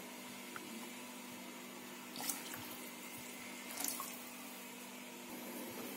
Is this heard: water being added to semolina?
yes